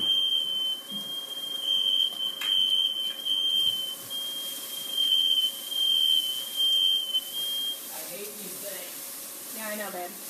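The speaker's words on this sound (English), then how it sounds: "Your smoke alarms must be too close to the stove." A household smoke alarm beeps in rapid repeated bursts, triggered by cooking smoke rising from a stove, with food sizzling beneath it and people talking over it near the end.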